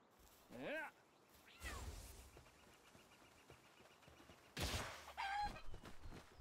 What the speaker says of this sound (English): Kill the chicken.